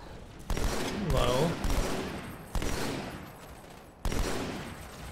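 Gunfire in the video game Halo 2: several sharp, loud shots and bursts with decaying tails, spaced over a few seconds, mixed with game effects and a person's voice.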